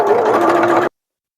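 A sewing machine runs steadily while stitching a small zippered pouch, a loud continuous mechanical whir lasting just under a second before stopping abruptly into silence.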